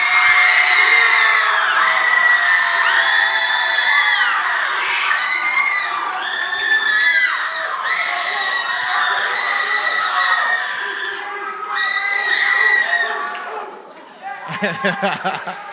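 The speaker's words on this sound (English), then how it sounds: "yell as loud as you can, cheer as loud as you can" A church youth audience, mostly young voices, yells, screams and cheers loudly for their new youth pastor in one sustained burst of crowd noise, with laughter near the end as it dies down.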